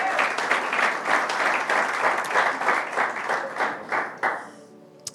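A church congregation applauding during a service, dense sustained clapping from many hands that holds steady, then thins into a few scattered claps and fades out near the end.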